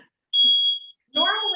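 Smoke alarm sounding in a kitchen, a steady high-pitched electronic tone lasting about half a second, followed by a voice speaking over the alarm.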